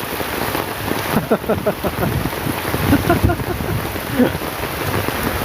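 Steady heavy rain pours over a flooding street, a dense continuous hiss close by with scattered louder splashes, and a few faint voices and laughs surface underneath.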